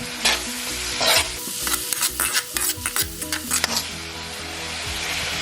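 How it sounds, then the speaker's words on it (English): Onion sizzles steadily in a hot pan while a utensil scrapes and stirs with irregular clacks, close up, no voices. "Frying up this onion a little bit."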